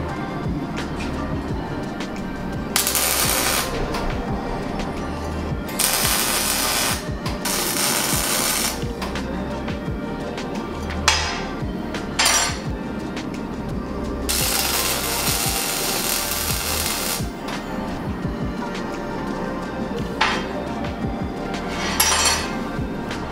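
MIG welding with argon and CO2 shielding gas, joining hardened steel pieces to handles for a Japanese-style marking knife: a steady crackling buzz runs throughout, with several longer bright bursts of hissing arc and a few sharp pops, close and loud.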